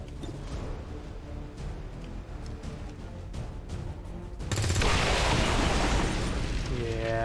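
An explosion in the video game XCOM 2 erupts midway as a sudden loud booming blast over game background sounds, then a sustained rumbling roar trailing off with debris.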